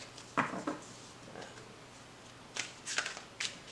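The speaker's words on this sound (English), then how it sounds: "So I always shuffle until the cards kind of feel a little heavy, or I feel like they've been well mixed." Tarot cards being shuffled close up, in short papery riffling bursts separated by quiet pauses, soft and with no talk.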